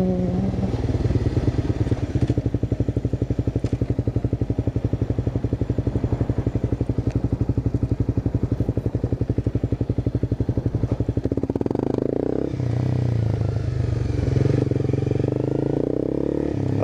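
Honda CBR 250 motorcycle riding, a steady rapid engine pulse heard close for several seconds, then the revs shift and the engine tone rises and falls as the bike changes speed.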